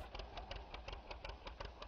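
An old Model A tractor engine runs steadily at a low idle, a regular chugging pulse of firing beats, fairly faint and alone.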